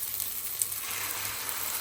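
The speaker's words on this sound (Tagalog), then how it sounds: "Lutuin ko din yung isang itlog." An egg fries in a pan, giving a steady, even sizzle with faint crackles and pops that holds close and constant throughout.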